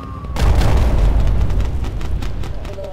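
A dropped bomb explodes in the Bomber Crew video game, one loud deep blast rolling into a long rumbling decay.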